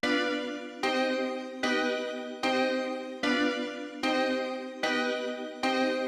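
A full beat plays, with the layered synth melody and chord progression together in a steady loop of eight bright, sustained phrases restarting at even intervals, loud and unaccompanied by speech.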